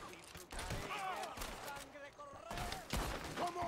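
Rapid gunfire from a Red Dead Redemption 2 shootout cracks out in several sharp bursts, layered under continuous voices and game sound that stay loud throughout.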